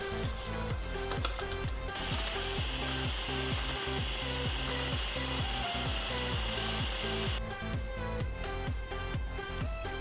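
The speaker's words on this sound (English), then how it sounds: "then I am going to take hand blender and whisk it." Electric hand blender whisking an egg and sugar mixture for molten lava cake: a steady, loud motorized whir runs throughout with no talking, its tone shifting slightly as it churns.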